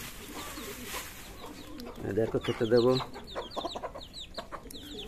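Young chicks clucking and cheeping nearby in short bursts, with a person speaking briefly over them.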